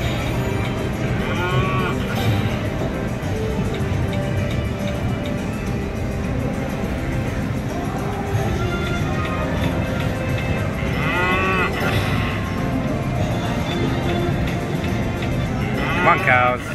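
Cartoon cows moo from a Texas Tea slot machine over steady casino background din, with a few separate lowing calls spread through the clip while people talk nearby.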